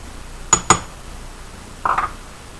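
Two quick bright clinks of metal measuring spoons knocking together, then a softer double jingle a moment later, close and clear with no talk over a quiet kitchen background.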